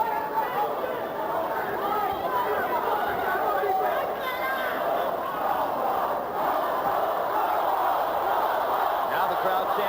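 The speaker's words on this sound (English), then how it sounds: "Now the crowd chants for Bowe." Boxing arena crowd at Riddick Bowe versus Larry Donald chanting for Bowe, a loud sustained roar of massed voices with rhythmic chant swells, filling the space continuously.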